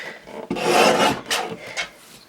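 Paper strip trimmed on a paper trimmer for card making: a close, rasping slide of the blade through paper lasting about a second, followed by two shorter scraping strokes, with no talking.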